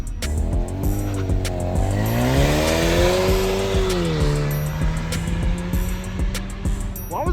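A Ford Fusion EcoBoost pulls away hard at a car meet, engine note climbing through a rev then easing off, loud and close with broad tire and road noise and crowd chatter in the background.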